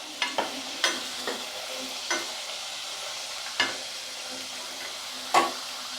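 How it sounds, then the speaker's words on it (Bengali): Potato pieces frying in a pan for a raw banana fritter curry, stirred with sharp scraping strokes that land at irregular intervals over a steady low sizzle. "আলুগুলো ভাজা হয়ে গেছে"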